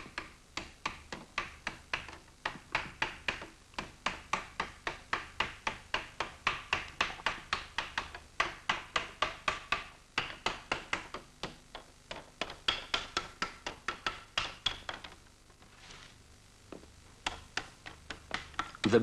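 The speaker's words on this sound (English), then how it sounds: "The beating process pushes the excess lead up into a peak at the corner, where it is simply cut off." Rapid, regular hammer blows beating lead sheet into shape, dozens of sharp dull taps in a fast steady rhythm, with a brief pause near the end before the beating resumes.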